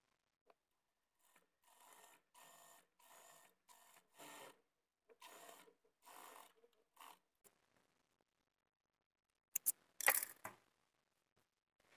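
Sewing machine stitching around a buckram piece on a blouse lining, running in short repeated bursts with pauses between them, fairly close and quiet, ending with a couple of sharp clicks and a brief rattle.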